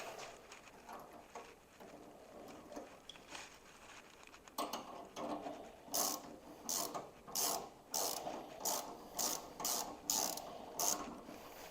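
Ratchet wrench with a 10mm socket tightening a bolt on a Can-Am Defender door vault, a quick series of sharp, evenly spaced clicking bursts, close and fairly loud, following quieter handling noise.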